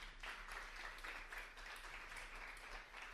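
An audience at a live podcast event gives a round of applause, a steady even patter of many hands clapping, heard softly and somewhat distant throughout with no talk.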